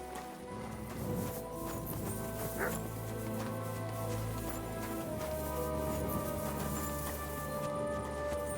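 A dog barks and yips amid a medieval village soundscape in the video game Kingdom Come: Deliverance II, moderately distant over steady ambient music and background noise, with faint hoof clatter nearby.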